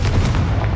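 Confringo fire spell blast from Hogwarts Legacy, a single short loud booming burst with a deep rumbling body, heard alone without talk.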